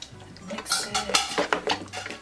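A spoon stirs sour cream into potato leek soup in a pot, scraping and clinking against the sides in several close, irregular strokes.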